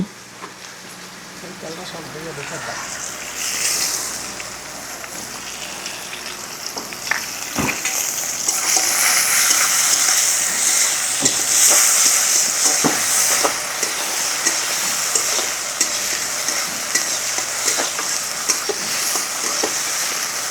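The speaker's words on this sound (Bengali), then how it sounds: "পেঁয়াজটা একটু ভালো করে ভেজে নিচ্ছি" Onions frying in mustard oil with cumin in a pan for stuffed pointed gourd, a steady hissing sizzle that grows louder after a few seconds, with occasional sharp stirring clicks and a person talking over it.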